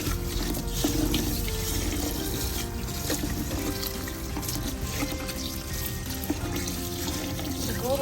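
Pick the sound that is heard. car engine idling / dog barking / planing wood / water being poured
water being poured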